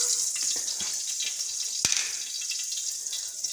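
Onions sizzle in hot oil with cumin and coriander spices, a steady bright hiss broken by a few sharp clicks and pops.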